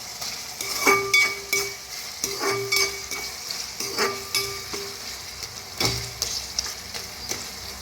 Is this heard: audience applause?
no